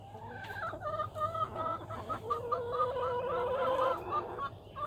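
Backyard hens cluck and chatter close by in a steady stream of overlapping calls, with soft ambient noise underneath and no voices.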